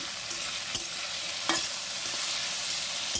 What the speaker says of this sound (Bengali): একটু গ্যাসটা কমিয়ে দেবো, দিয়ে আস্তে আস্তে ভাজবো